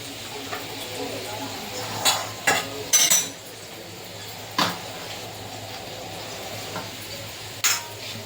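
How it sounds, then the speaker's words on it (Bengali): Potatoes fry in oil in a pan under a soft, low sizzle, broken by several sharp spatula clinks and scrapes against the pan. "আলুটা আমি ভেজে নেবো লাল লাল করে"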